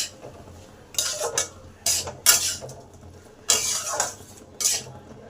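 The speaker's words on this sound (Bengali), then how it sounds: "এবার এই মশলাটাকে ভালো করে সমস্ত সবজির মধ্যে মিশিয়ে দিলাম।" Mustard spice paste is stirred through mixed vegetables in a pan: several short, close scraping strokes of a utensil against the pan, spaced about a second apart, with quiet background noise between.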